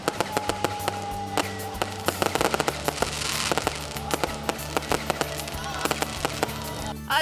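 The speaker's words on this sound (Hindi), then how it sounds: "शहर इक़्तिदार समेत मुल्क भर में शानदार आतिशबाजी का मुजाहरा किया गया।" New Year fireworks crackle and pop in dense, irregular bursts, sharp bangs scattered over a continuous sizzling roar, with a distant crowd murmur underneath.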